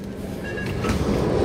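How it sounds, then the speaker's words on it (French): A metro train rolls into a station in Lyon, a loud, close rumble of wheels on rail with a brief metallic squeal, steady and continuous throughout. "voilà mon métro"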